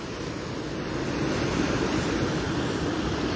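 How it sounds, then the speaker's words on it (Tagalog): Rough sea the day after a typhoon, waves churning in a steady, broad roar mixed with wind buffeting the microphone, loud and continuous throughout without distinct breaks. "Nagwawala yung dagat."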